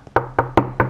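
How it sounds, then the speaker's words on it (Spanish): Four sharp knocks on a neighbour's apartment door, evenly spaced and close by, each a crisp wooden rap with no talking over them. "vamos a llamar a la puerta"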